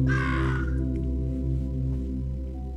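Crows caw in the Monument Valley video game, a burst of harsh calls at the start over a steady layer of game music, fading into the music alone.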